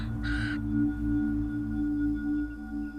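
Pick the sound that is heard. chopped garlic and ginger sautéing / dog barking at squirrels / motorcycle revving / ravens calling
ravens calling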